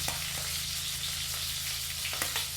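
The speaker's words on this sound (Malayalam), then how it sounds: "നമ്മുടെ സവാള പച്ചമുളക് കൂടി അതിൻ്റെ കൂടെ ഇട്ട് കൊടുക്കാം" Sliced onion and green chilli for crab curry fry in hot oil with a steady close sizzle, a low hum beneath and a couple of faint stirring clicks.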